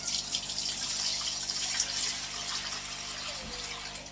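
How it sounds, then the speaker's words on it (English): Fresh water pouring steadily into a 40-litre fish tank, a continuous close splashing gush with bright hiss that holds level throughout and tapers slightly at the end. "let's put some fresh water in"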